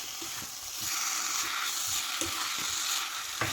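Spinach and potato thoran being stirred in a frying pan, a steady close sizzle broken by scraping knocks of the spoon at irregular intervals.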